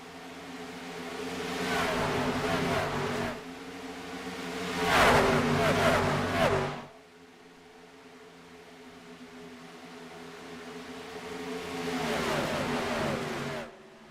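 Race cars charging around the track during an ISS 250 race, engines swelling and fading in repeated loud passes with quieter gaps of steady engine drone between them, no voices.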